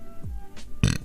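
A girl lets out one short, loud burp near the end, preceded by a few faint throaty sounds and soft noises close to the microphone.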